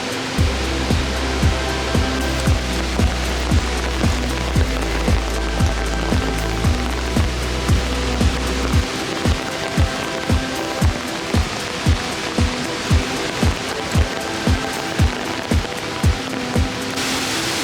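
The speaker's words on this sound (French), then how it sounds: "Les gars, il pleut de fou." Steady heavy rain pours down, a dense hiss with a low rumble in the first half, then irregular sharp drips and taps over the continuous downpour.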